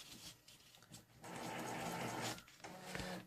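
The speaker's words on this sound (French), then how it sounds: "Pardon, c'est mon imprimante. Je vais l'éteindre." A home printer runs with a mechanical whirring and rattling hum that grows louder and steadier midway, then drops off and restarts, heard up close without talk.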